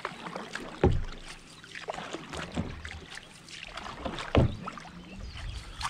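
Canoe paddle strokes pull through water, with two heavier splashing strokes standing out among softer drips and swishes, close by and without talk.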